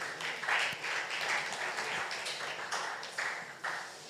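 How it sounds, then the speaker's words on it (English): Applause from a church conference audience, moderately loud clapping that swells and dips across the whole stretch, with a few claps standing out near the front and faint voices mixed in. "A round of applause, please."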